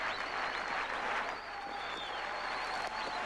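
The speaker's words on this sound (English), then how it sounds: "look at the crowd respond to that" A cricket stadium crowd applauds a batsman with a broad, sustained roar of clapping that holds steady across the whole stretch. No one is heard talking over it.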